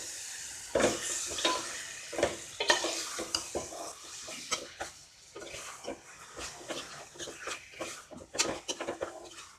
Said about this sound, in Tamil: சிக்கனை போட்டுட்டு நல்லா பரட்டி விடலாம்.